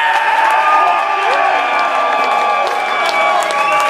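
A crowd at a Goatwhore metal show at Growlers cheers, whoops and claps loudly and steadily, with shouting voices mixed into the dense, sustained roar of the audience.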